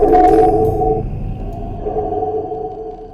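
Synthesized sonar-style tone with a booming reverb, a loud tonal ping that rings out and slowly decays over a few seconds, heard alone.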